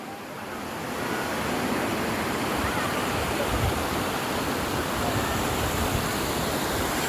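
Huaykaew waterfall in Chiang Mai roars as a dense, steady wash of rushing water, loud and close, swelling up after the first second and holding constant.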